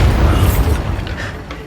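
A Bombarda blast spell in Hogwarts Legacy bursts with a heavy low boom that rolls off over a second and a half, leaving faint scattered debris.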